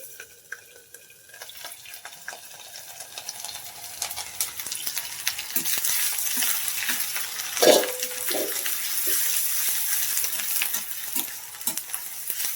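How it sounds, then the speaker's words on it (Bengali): Onion paste spits and crackles in hot oil in a pan, a steady close sizzle with scattered pops and one louder splattering burst midway, alone without voices. "পেঁয়াজের জল ছিল এই জন্য ছিটকেছে"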